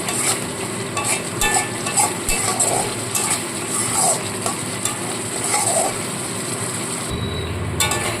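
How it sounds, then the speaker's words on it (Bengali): Spice paste for a vegetarian stuffed pointed gourd dish fries with a little water while being stirred steadily, giving a close, loud sizzle broken by repeated scraping and clattering strokes of a spatula against the pan. "অল্প অল্প জল দিয়ে সমানে কষাতে থাকবো"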